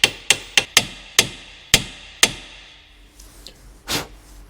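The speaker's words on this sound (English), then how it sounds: "So you can guide the hub back onto the bottom ball joint, and tap this back up into place." A hammer taps a car hub up onto the bottom ball joint during a Vauxhall Corsa front wishbone arm replacement, giving seven sharp metallic knocks in an uneven rhythm, close and loud, then a few fainter shuffling clunks.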